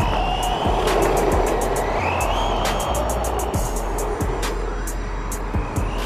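A Vkar Racing Bison brushless 1:10 RC car drives fast off-road and on-road, giving a loud, continuous high-pitched motor whine over a rough rumble, with repeated sharp clicks and bumps as it runs close by.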